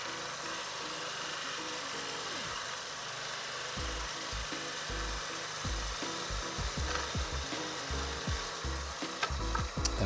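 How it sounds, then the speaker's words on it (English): Spindle gouge cutting wood on a lathe while turning a box, a rough, continuous scraping hiss over the steady spinning drone, with repeated low thumps as the tool works the surface. "spindle gouge is not that sharp anymore."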